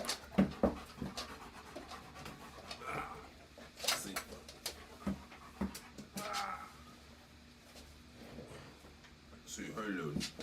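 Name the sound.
dog panting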